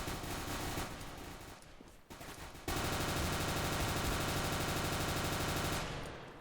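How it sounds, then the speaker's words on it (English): Automatic gunfire in an early alpha build of Counter-Strike: Global Offensive, loud, rapid sustained bursts with a short pause before a long continuous volley that fades at the end. "we're gonna get to shooting."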